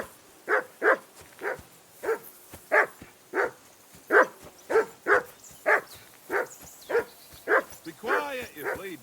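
A dog barks at Henry in Kingdom Come: Deliverance 2, fourteen or so sharp barks at a steady rhythm, fairly close, ending in a whining yelp.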